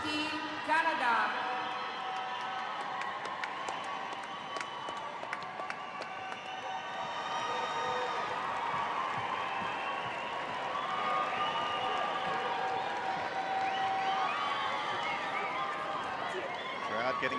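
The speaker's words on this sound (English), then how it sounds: "Crowd getting excited now." Crowd cheering and applauding at the 2013 FINA World Championships in Barcelona, a steady roar of applause and shouts filling a large arena, rising and swelling throughout with a commentator talking over it.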